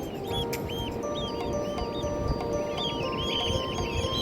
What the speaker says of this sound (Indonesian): Banyak burung camar.